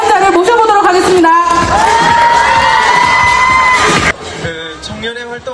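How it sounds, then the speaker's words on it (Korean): A crowd at an election-fraud protest rally in Daegu cheers, whoops and claps loudly to welcome a speaker, then the noise drops sharply near the end. "큰 박수로 한번 발언자를 모셔보도록 하겠습니다"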